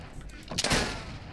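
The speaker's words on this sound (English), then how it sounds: "Gunshots fired." Video-game gunfire in a Minecraft zombie apocalypse game: a short burst of two or three sharp, fairly quiet shots clustered together near the middle.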